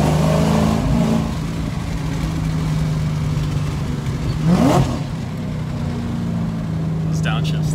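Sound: Shelby GT500 5.8L engine revving on downshifts

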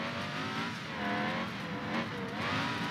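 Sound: car driving in video game BeamNG.drive

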